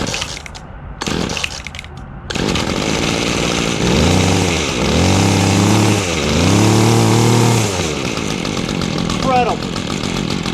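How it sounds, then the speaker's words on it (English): A Weed Eater FL25 two-stroke string trimmer, over thirty years old and restarted after sitting idle, pull-starts and then runs loud and close, its engine revving up and down several times, with someone speaking over it. "This Weed Eater FL25 I've had for over 30 years."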